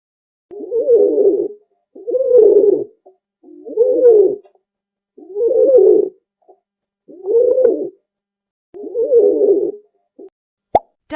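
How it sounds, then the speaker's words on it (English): A pigeon cooing close by, six low, rolling coos about a second and a half long, evenly spaced with short silent gaps between them. "Pigeon."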